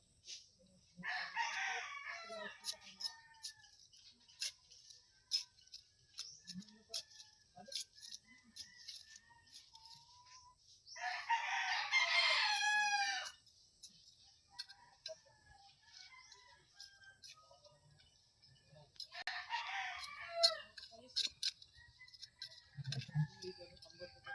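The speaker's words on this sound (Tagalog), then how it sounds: "Mga manok silingan." Roosters crow three times at a distance, spaced apart, with scattered clucking and quiet rustling in between.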